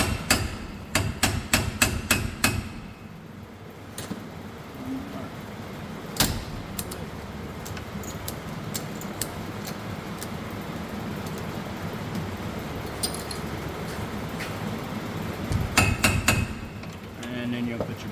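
Sharp metallic hammer taps ring out in quick bursts while a rear link is driven into line on a 1958-1964 Cadillac, clustered near the start and again near the end, over steady workshop background noise.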